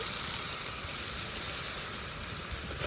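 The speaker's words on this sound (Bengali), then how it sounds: "সব কিছু খুব ভালোভাবে কষে নেই" A large snakehead fish head fries in a pan with ginger-cumin paste, turmeric, chili and coriander powder and salt, giving a steady, close sizzle with a hiss like steam.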